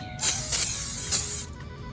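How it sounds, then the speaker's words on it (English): A single quick hiss of cooking oil spray from a can into an air fryer basket, about a second long, close and fairly loud, with a faint pulsing in the burst. "Let's give this another quick spray."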